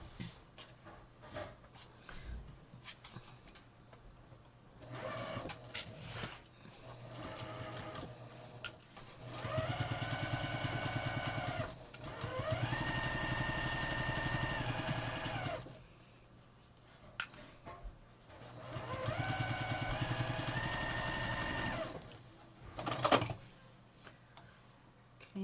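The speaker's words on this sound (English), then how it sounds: "let's sew these up." Sewing machine stitching quilt-as-you-go quilt pieces in three long close-up runs of rapid mechanical clatter, separated by quieter pauses with small handling ticks.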